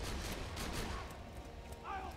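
Rapid video-game gunfire from Borderlands 2, a dense, steady barrage of shots filling the whole stretch, with a faint tonal effect near the end.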